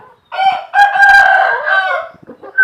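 A white Thai Gai Chee rooster crows loudly and close by, one long drawn-out cock-a-doodle-doo with a few clucks afterward, and no voices are heard.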